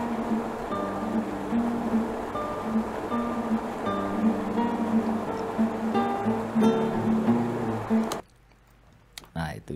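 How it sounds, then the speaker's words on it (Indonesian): Outdoor river ambience recorded from a spot mid-river: steady rushing, gurgling water with a broad wash of flow noise, fairly close and continuous, ending with a sudden drop to near silence. "Hasil ambience dari spot pertama di tengah sungai."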